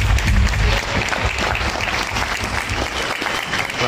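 A crowd claps steadily for a few seconds, dense applause at even loudness with no voices standing out.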